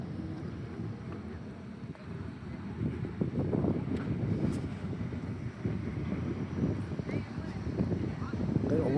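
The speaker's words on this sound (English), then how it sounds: "A little windy right here." Wind buffets the microphone during a walk downtown outdoors, a continuous low rumbling roar that swells and eases without a break, fairly faint overall.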